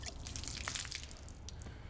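Water drips and splashes off a Carhartt Rain Defender durable water repellent sweatshirt, a steady soft patter of droplets close by, with no voices.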